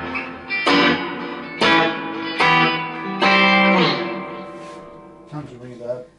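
Burns Brian May Red Special electric guitar on its bridge pickup, drenched in heavy reverb: four loud strummed chords ringing out with long washy tails, then two softer notes near the end.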